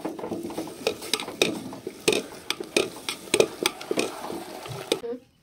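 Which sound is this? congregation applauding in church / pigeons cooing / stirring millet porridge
stirring millet porridge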